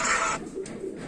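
Kamagar pigeons cooing in short soft low coos, close by, after a brief burst of broadband rustling or flapping, with no talk.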